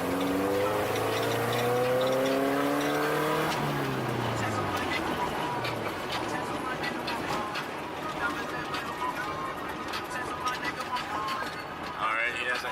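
A Subaru car drives and pulls into a driveway, its engine note rising and falling as it slows and settles into a rumbling idle with tyre and road noise, and a voice is partly audible.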